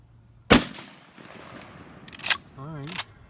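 A Mossberg 535 shotgun fires a single loud, sharp blast of a Federal TSS 3rd Degree shell outdoors, followed by a decaying echo, some fainter clicks and a brief tonal beep near the end.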